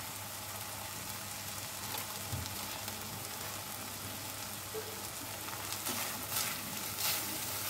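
Turmeric and Kashmiri red chili powder frying in ghee for paneer ghee roast, giving a soft steady sizzle with light crackle throughout, moderately close and without speech.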